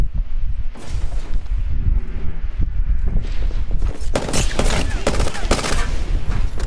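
Gunfire in the video game Apex Legends crackles in rapid irregular bursts over wind-like rustling, growing denser and sharper in the latter half, with no voices over it.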